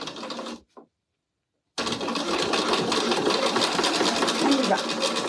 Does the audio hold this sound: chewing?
no